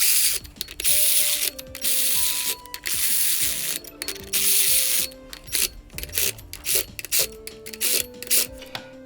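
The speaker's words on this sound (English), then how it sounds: "I'm gonna go ahead and tighten them down." Ratchet tightening flywheel bolts on a Nissan 370Z clutch job, bursts of rapid clicking ratchet strokes separated by short pauses, close and distinct in a quiet garage.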